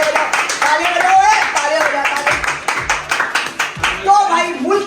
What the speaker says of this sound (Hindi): तालियां बजाओ सारे, तालियां बजाओ।